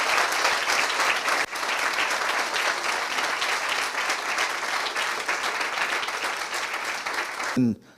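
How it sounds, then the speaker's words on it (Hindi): A congregation at a Christian sermon claps loudly and steadily for several seconds, a thick continuous wash of applause that cuts off abruptly at the end. "आइए खुदावन के लिए जोरदार ताली बजाएंगे।"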